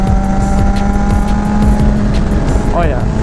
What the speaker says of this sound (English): Oh yeah, the downshifting, the upshift, and the quick shifter is just like on point.